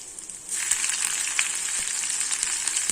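Ginger and green chilies sizzle in hot oil already tempered with mustard seeds and asafoetida, the stove just switched off; a steady bright crackle jumps up after a quiet half second and holds, with small pops scattered through.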